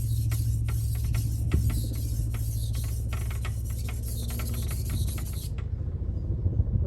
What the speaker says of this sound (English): I'm not used to seeing military helicopters fly overhead